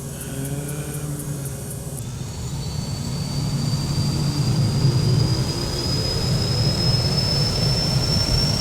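Cessna 208 Caravan turboprop engine starting up in a flight simulator: a clicking starter gives way to a rising whine and a steady low roar that builds and holds, with no talking.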